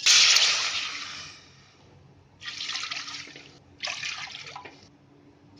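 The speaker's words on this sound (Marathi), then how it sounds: "त्याच्यामध्ये आता 4 वाटे मी पाणी घेणार आहे." Water poured into a pot holding rice on a gas stove, three separate splashing pours, the first the loudest, each separated by a short pause and heard close with no voices.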